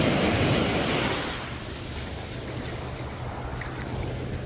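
Ocean surf washes over a Retevis RA89 VHF/UHF handheld radio lying on a sandy beach: a loud rush of water that swells then settles into steady hissing wash and wind noise, with no voices.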